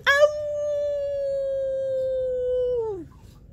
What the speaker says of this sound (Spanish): It's a wolf. Es un lobo.